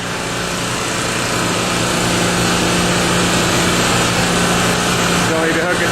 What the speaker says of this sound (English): Homemade long run gen set.